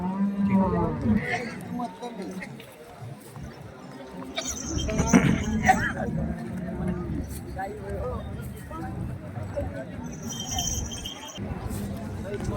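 Cattle, including bulls, moo amid a busy bullock market, with people talking and calling out nearby throughout.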